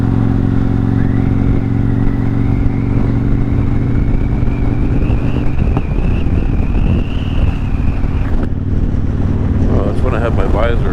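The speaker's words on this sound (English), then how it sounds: "I gotta figure out why I had so much wind noise in this helmet." Strong, steady wind roar buffets a motorcycle helmet while riding, with a low engine hum underneath and a voice talking over it throughout.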